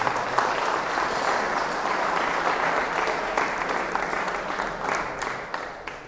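A crowd at a Hassan rally honouring selected police constable candidates breaks into loud sustained applause that holds steady for several seconds, then thins out slightly at the end.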